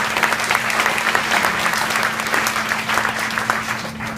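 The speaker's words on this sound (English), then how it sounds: "So give her a round of applause." A graduation audience applauds steadily, a dense, loud wash of many hands clapping throughout with a low steady hum underneath and no speech.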